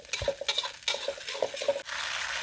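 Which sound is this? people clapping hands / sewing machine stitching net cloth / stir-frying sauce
stir-frying sauce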